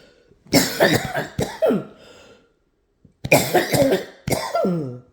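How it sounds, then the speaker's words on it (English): A person coughs in two harsh, close bursts separated by a brief silence, each fit made of several rough hacks. "Joaquin coughed as a cloud of smoke spewed forth."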